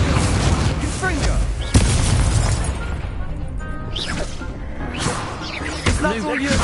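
Confringo spell explosions in Hogwarts Legacy come as repeated booming blasts and crashes, loud and close, with a player talking over them.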